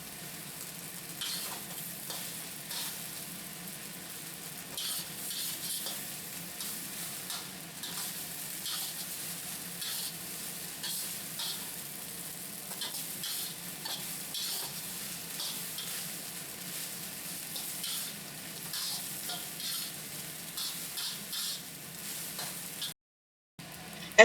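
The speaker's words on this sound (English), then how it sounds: "Cook until the eggs are done and mix in the rice." Eggs and rice stir-fried together in a pan for fried rice, a quiet, continuous sizzle with soft scraping and stirring strokes throughout, no voices.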